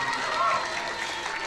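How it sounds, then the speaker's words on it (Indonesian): An audience at a ceremony honouring children who memorised the Quran claps in a dense, steady patter, with someone speaking over the applause. "Beri tepuk tangan kepada teman-teman semua."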